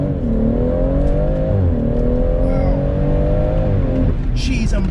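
A BMW M140i pulls hard in first gear, its engine note climbing steadily with a brief dip before continuing, loud and close throughout, with a short higher sound near the end.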